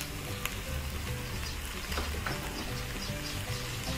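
Shark meat stir-frying in a pan with a little added sugar, a steady crackling sizzle with occasional stirring scrapes, close and continuous, with no voices.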